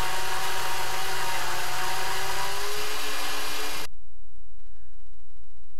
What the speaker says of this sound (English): Now that we've drilled the holes